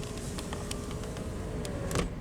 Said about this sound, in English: And now we'll go ahead and roll down the driver's window.